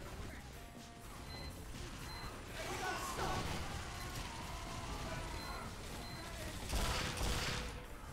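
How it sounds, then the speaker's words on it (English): Sentry gun firing in the video game Team Fortress 2, a steady, dense rattle of automatic fire running through the whole stretch with a sharper burst near the end, heard alone without talk. "Why is there a sentry gun there, man?"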